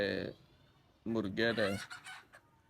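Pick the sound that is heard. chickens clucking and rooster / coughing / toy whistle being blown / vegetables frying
chickens clucking and rooster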